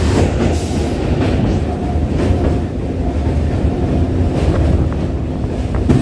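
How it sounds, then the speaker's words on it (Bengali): Local train crossing the Kali Narayanpur bridge over the Churni river between Ranaghat and Krishnanagar, heard from onboard as a loud, steady rumble and rattle of wheels with strong wind buffeting throughout, no voices. "এবার পার করতে চলেছি চুনি নদীর উপর বানানো কালী নারায়ণপুর ব্রিজ।"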